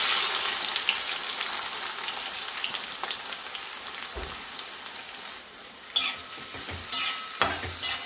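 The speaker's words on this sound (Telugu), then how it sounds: "ఇవి ఆనియన్స్ అనేవి ఫ్రై అవ్వాలి" Four medium onions with green chillies frying in a pan for a village-style spicy amaranth leaf stir-fry, a steady close sizzle with occasional stirring clatter and scrapes, no talk.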